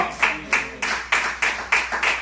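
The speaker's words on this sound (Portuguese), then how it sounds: "E aplauda ao Senhor com o seu melhor" Church congregation applauding during a worship service, heard as a series of rhythmic bursts of clapping roughly every third of a second, fairly close and steady, with no talking over it.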